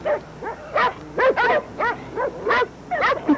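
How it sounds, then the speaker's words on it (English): Many dogs bark and yip in a children's television story from a 1980s Nickelodeon Pinwheel broadcast: about ten short, high, yappy barks in an uneven series, loud and close with short gaps. "I've never heard so many dogs."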